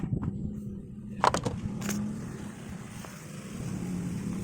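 A 2015 Toyota Wigo G car engine idles after an oil change, a quiet, steady low hum with a few brief clicks and knocks near the start.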